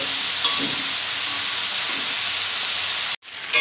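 Chopped tomato and slit green chillies are stirred in a hot frying pan, giving a loud, steady sizzle with faint scraping. The sound cuts off abruptly near the end, then briefly resumes.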